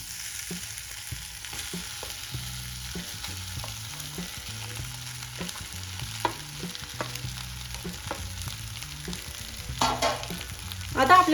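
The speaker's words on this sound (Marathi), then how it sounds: "बटाटे छान मिक्स करून घ्यायचे आहे मसाल्यासोबत" Mashed potatoes are stirred with spices in a frying pan for vada pav, giving a soft sizzle with scraping spoon strokes; a light rhythmic musical tone runs underneath, and a louder scrape comes near the end.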